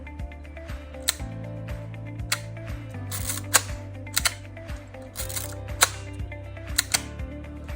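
The mechanical shutter of a Yashica Electro 35 rangefinder camera set to B mode clicks open and shut repeatedly in sharp, irregularly spaced pairs over faint tonal background music.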